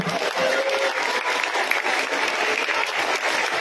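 A school assembly audience at a reading campaign launch in Malaysia breaks into dense, steady applause, many hands clapping together without pause for several seconds.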